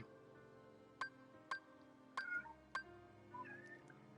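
Short meows from a pet cat named as a good boy, four brief calls spaced about half a second apart with a softer fifth at the end, close and clear over a quiet room hum.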